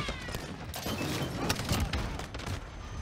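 Rapid gunfire in the Call of Duty Modern Warfare shooter on the Shipment map, with dense overlapping shots and bursts cracking continuously, fairly close and loud, with game noise beneath.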